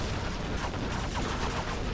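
Gunfire from a fire base in the real-time strategy game Command & Conquer Generals Zero Hour, a dense, continuous crackle of shots at low level with no pauses, sounding like sustained distant battle fire.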